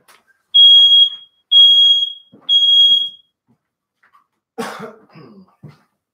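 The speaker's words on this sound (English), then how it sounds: "That's my smoke alarm." Three loud, piercing smoke alarm beeps in steady succession in a kitchen with an oven at 400 degrees Fahrenheit, followed by a cough or throat clearing after a short pause.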